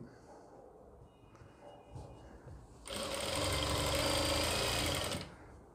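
A sewing machine stitches a designer gown in one sustained run of about two seconds, loud and close after quieter handling noises, with no talk over it.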